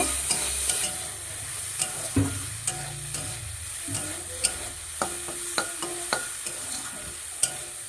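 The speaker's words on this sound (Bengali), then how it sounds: "এবার ভালো করে ভেজে মিশিয়ে নেব।" Chicken with turmeric fries in a pan while being stirred, a steady close sizzle broken by repeated sharp scrapes and clinks of the spoon against the pan.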